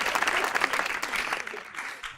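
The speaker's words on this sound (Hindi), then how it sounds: "अरे तालियां, वाह वाह।" A studio audience on a comedy talk show breaks into lively applause, a dense, close wash of clapping that swells early, then thins and fades toward the end.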